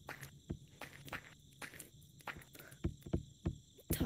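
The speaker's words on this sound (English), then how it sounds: "I heard your footsteps." Footsteps in a video game, a series of distinct sharp steps at an irregular pace, some soft and some louder and closer, over a quiet background with no talk.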